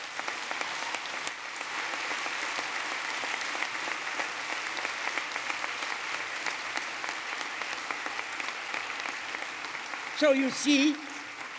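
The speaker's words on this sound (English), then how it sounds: "I think we should clap him as we clap the people of Norway for that incredible" Sustained audience applause at a large ceremony, a dense even roar of clapping that fills the whole stretch, with a voice briefly speaking near the end.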